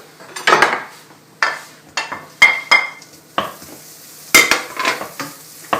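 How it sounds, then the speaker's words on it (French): Pan heating with butter in a home kitchen, with repeated short scraping and clinking of a utensil against the pan over a faint sizzle, close and distinct, no talking. "on va mettre une poêle à chauffer avec un peu de beurre"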